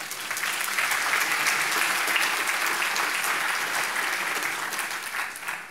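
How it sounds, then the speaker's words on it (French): Steady applause from an audience at a general assembly awards announcement, a sustained even wash of many hands clapping at moderate distance with no voices over it. "Applaudissements."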